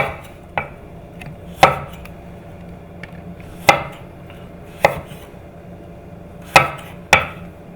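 A knife cuts thin slices of burdock root on a cutting board, giving crisp, irregular knocks against the board with quiet pauses between strokes, close up and with no voices.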